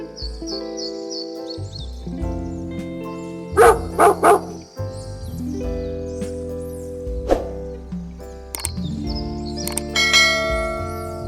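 A cartoon dog barks in a few quick bursts over bright, bell-like background music, with the yaps sitting close and loud against the tuneful score.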